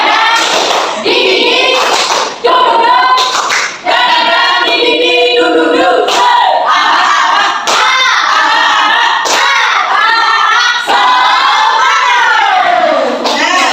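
Schoolchildren in a classroom perform the tepuk semangat spirit clap chant, shouting together in rhythm with bursts of hand claps and thumps, loud and close, with group voices filling the whole stretch.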